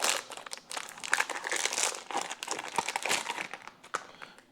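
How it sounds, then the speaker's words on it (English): A plastic parts delivery bag for a 1927 John Deere D tractor crinkles and rustles as it is carefully opened, a busy run of close, crackly crumpling with sharp little snaps throughout, no voices. "I'll try not to destroy this bag so that I can put this back into the bag when we're done."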